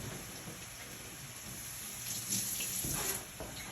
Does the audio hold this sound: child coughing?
no